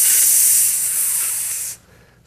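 A sizzling sound effect plays as a loud, steady, bright hiss, like frying or steam, holding for nearly two seconds before cutting off abruptly into near silence.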